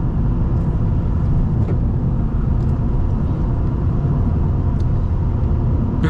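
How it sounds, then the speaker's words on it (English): A 1999 BMW M3 E36 engine drones steadily while driving, a smooth, even low rumble with road noise filling the cabin for the whole stretch, no voices. "Man, such a smooth engine."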